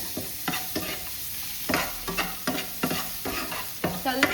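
Bay leaves and chillies frying in a pan, with a steady sizzle broken by repeated scraping stirs at an irregular rhythm, close and moderately loud, with no talking.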